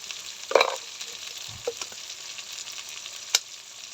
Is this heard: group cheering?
no